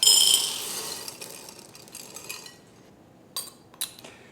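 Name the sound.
corn being put into a medium-sized bowl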